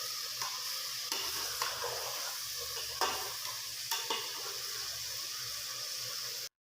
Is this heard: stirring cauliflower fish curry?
yes